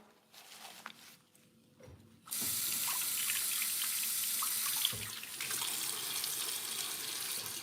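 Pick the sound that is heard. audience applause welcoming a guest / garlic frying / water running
water running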